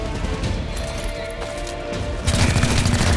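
Enemies exploding in the video game XCOM: Chimera Squad: crackling gunfire-like bursts build toward a loud, broad blast near the end.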